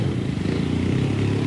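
Motorcycle engine held at raised idle during a no-handed riding stunt, a steady, close, continuous mid-pitched drone with a slight rough pulse and no voices.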